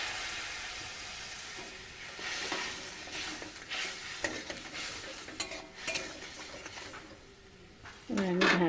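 Water goes into a pan of frying mustard and poppy seed paste, bringing bursts of sizzling and spattering along with stirring and utensil scrapes, fairly close, while a voice talks over it.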